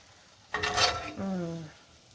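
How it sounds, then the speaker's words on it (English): A spatula scrapes farm-raised sausage and farm-fresh scrambled eggs from a pan into a dish, with a short close clatter of metal on cookware followed by a brief low vocal sound. "Gonna transfer those to a dish and add the cilantro"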